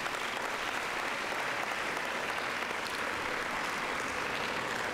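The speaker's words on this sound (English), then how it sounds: "Let's give all of our chemistry winners a round of applause." A large audience at a junior science fair awards ceremony applauds the chemistry winners. Dense, even clapping continues for the full five seconds without pause.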